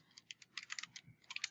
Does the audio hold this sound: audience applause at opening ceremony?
no